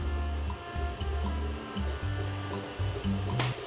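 An electric hand mixer creams butter for cookie dough, giving a steady motor whine whose pitch shifts as the beaters work through the bowl, with no talking.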